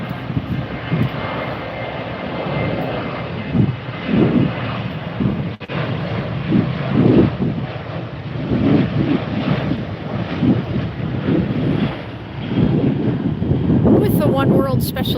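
Airliner on flight 3096 wearing the oneworld special livery, its steady engine roar loud and continuous near the Tampa airport, with wind buffeting the microphone and a voice talking over it.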